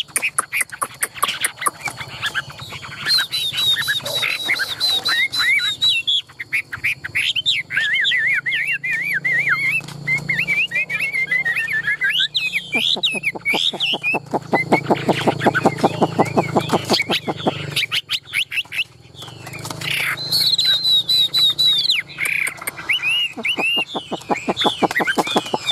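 A tame songbird kept in a cage, calling in long runs of rapid whistles and harsh chattering notes, close and loud, with pauses between bursts and faint background noise.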